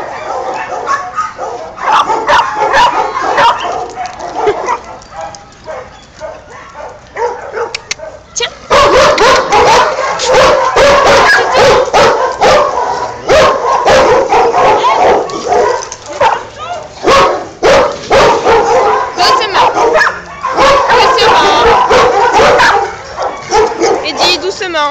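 Dogs bark and yip repeatedly in sharp, close bursts, with whimpering and a voice mixed in, growing busier in the second half.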